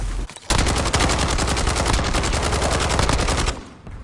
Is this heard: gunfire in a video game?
yes